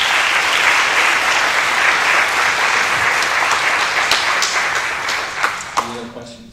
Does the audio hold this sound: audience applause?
yes